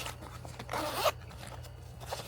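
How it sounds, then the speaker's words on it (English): A zipper on a tool bag pouch is pulled open in one quick, raspy stroke, close and fairly soft against a quiet room hum, with no talking. "Another zipper pouch here to put stuff in."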